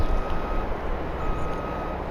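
A tractor engine left idling in Farming Simulator 22, a steady low rumble with a faint high whine, constant and unchanging throughout with no talk.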